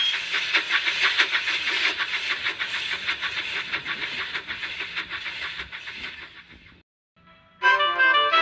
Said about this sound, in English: the guard blew his whistle and Callum chuffed away to the seaside